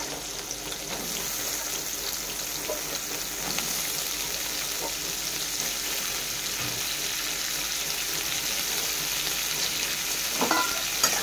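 Long-sliced onion and potato fry together in a pan, giving an even, continuous sizzle with only faint occasional stirring noises and no voices.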